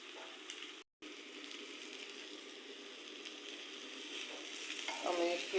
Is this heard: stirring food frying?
yes